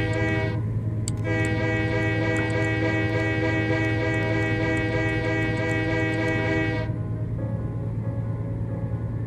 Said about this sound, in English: let's honk the horn, get this deer off the tracks, get out of the way